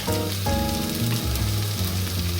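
Black beans sizzle in a hot pan with sauce while being stirred, a steady close crackling hiss running throughout with no talk.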